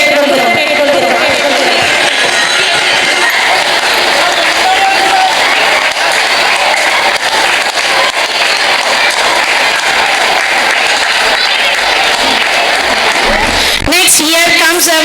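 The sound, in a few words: parents applauding at a school event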